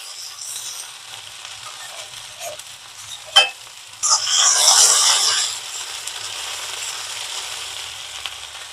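Sliced okra dry-frying in a pan makes a soft, low sizzle with a single sharp click, then a louder surge of hissing for about a second before it settles back to a quieter sizzle.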